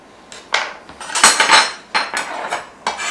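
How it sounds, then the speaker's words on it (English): Vegetables for an Asian slaw being chopped with a knife on a cutting board: a run of sharp, close, irregular chops and scrapes, with short pauses between bursts and no talking. "I'm just going to cut what I need and chop it up."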